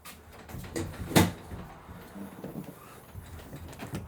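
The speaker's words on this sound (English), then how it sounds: "The back door opens with a nice assisted hydraulic arm" A single sharp clunk of a horse box's heavy rear door releasing, then softer creaks and rustling as it swings open on a hydraulic arm, fairly close and moderately quiet.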